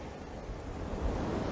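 Ocean waves at Pebbles Beach in Carlisle Bay, Barbados, a brief broad wash of surf mixed with wind noise on the mic, close and steady, swelling slightly toward the end.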